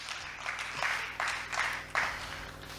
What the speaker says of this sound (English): No, slow clap.